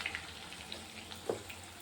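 Small spoonfuls of dahi bada batter frying in hot oil, a faint, soft, steady sizzle with light crackles and pops.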